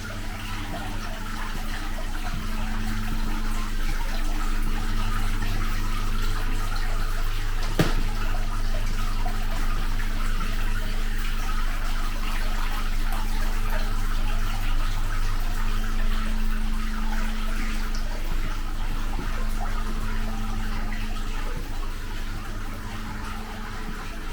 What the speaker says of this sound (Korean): 물소리가 아주 청명하게 들립니다.